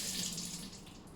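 Water is poured over a knife sharpening stone with a very rough side and a very fine side to soak it; a steady, close rush of running water fills the short moment with no voices.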